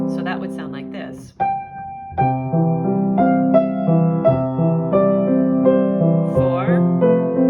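A short spoken phrase, then a piano plays an inverted broken-chord arpeggio in a gently flowing triple rhythm, the notes rolling up and down evenly at moderate loudness.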